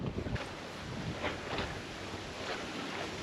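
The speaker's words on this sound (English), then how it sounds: "It's very windy today." Strong wind gusting along the rocky ledges of the Lake Superior shore on Madeline Island, a steady broadband rush with buffeting against the microphone and waves faintly beneath, no voices.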